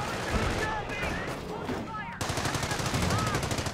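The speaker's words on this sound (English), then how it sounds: "Base is taking fire" Gunfire rattles around the base in the World War II strategy game Company of Heroes, rapid machine-gun bursts and rifle shots crackling continuously over battle noise, with faint voices in the mix.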